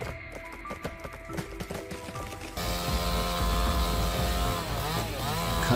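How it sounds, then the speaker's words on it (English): A chainsaw cuts into a large pine tree, starting with rough, broken revving and then settling into a loud, steady, continuous whine of the engine biting through the wood. "Cutting a pine tree with a chainsaw is both an art and a science."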